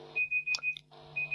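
A debate timer beeps as time runs out: a run of short, evenly spaced electronic beeps, a brief pause, then the beeping resumes, loud and close over a low background hum.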